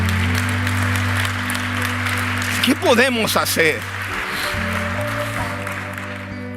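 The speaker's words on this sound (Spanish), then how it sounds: "Dar un aplauso a él, dar un aplauso grande" Congregation applause in a church service, a steady wash of clapping throughout with a voice speaking over it briefly midway.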